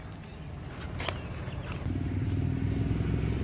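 A motorcycle with a 53 mm big-bore cylinder and a painted cylinder head and barrel rumbles close by on a long test ride, its engine note thickening into a steady, louder drone in the second half.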